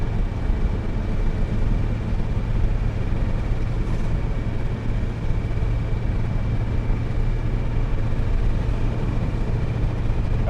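A 1978 Mercedes W123 300D with automatic transmission drives along, its diesel engine and road noise forming a steady, continuous rumble heard from inside the cabin, with no talk.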